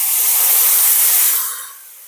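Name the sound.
marinade poured into hot pan of beef bistek, sizzling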